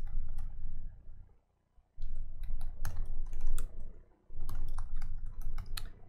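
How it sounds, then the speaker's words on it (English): Fast, irregular clicking of keys as a command is typed on a computer keyboard, close and steady over a low background hum, with one brief pause. "Let me type in the command."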